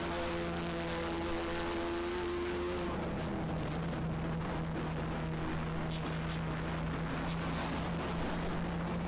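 Several Volkswagen Polo race cars in the Polo Cup India series roar past on a circuit, a loud steady engine drone that drops in pitch as one car passes close, then a sustained lower rumble of the pack.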